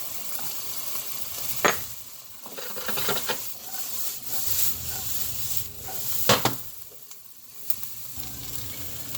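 Steady frying sizzle of garlic in a hot pan over medium-low heat, with a few sharp crackles and clicks of stirring breaking through the hiss.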